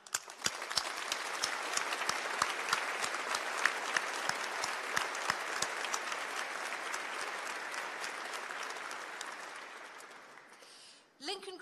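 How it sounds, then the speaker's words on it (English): Graduation ceremony audience at a university hall applauding, a broad sustained round of clapping with a few sharper individual claps near the start, gradually fading out before a brief sound at the end. "shall we begin this ceremony by thanking them with a round of applause for their support"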